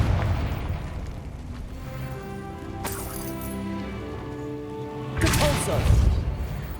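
A fiery Confringo spell blast bursts in Hogwarts Legacy, a booming explosion with a crackling rush near the end, following earlier tonal magical effects and rumbling game ambience.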